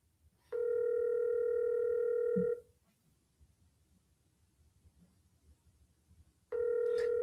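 Ringback tone of an outgoing telephone call: a steady electronic ring lasting about two seconds, then a long silent gap, then the next ring begins, clear and alone with no talk.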